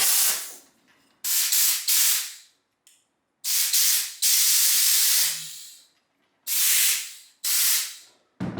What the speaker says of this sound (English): It's not as loud as a regular air hose, but that silencer works a little bit.